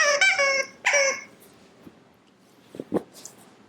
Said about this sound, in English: this toy is still here, still has a squeaky.